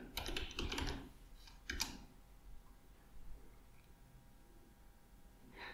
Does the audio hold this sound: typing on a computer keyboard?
yes